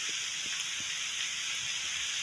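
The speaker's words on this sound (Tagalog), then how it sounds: "Grabe mga ulan nito. Ang lakas, ang dilim ng panahon oh." Heavy rain falling during dark, stormy weather near a burial, a steady dense hiss with no breaks throughout, fairly faint and distant-sounding.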